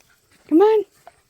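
A dog gives a single short, rising whimper close by during a fall walk around a pond, with quiet stillness before and after.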